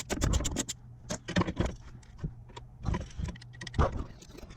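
A 5.5 mm socket works loose the hold-down bolts of a GM ignition control module, producing close, intermittent metallic scrapes, clicks and ratcheting bursts over a faint background hum.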